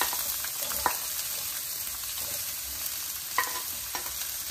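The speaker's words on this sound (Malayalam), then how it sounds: "അപ്പോൾ അതിലേക്ക് നമ്മൾ അരിഞ്ഞു വെച്ചേക്കുന്ന സവാള ചേർത്ത് കൊടുക്കുകയാണ്." Chopped onion fries in hot oil in a pan, making a steady bright hiss of sizzling with a few scattered clicks of a spatula, heard close and alone with no speech.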